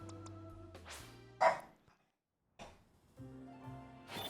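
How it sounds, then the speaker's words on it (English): A dog indoors gives a few sharp, close barks in short bursts with a silent gap between them, heard alone without talk. "We don't just bark for nothing."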